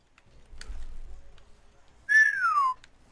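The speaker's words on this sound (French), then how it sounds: "Ah, désolé pour ce sifflement" A single clear whistle during a Rocket League gaming session rises briefly and then glides downward, loud and close. It stands alone after a stretch of quiet low rumble.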